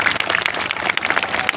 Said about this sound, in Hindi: आप लोग उनके लिए जोरदार ताली हो जाएगी।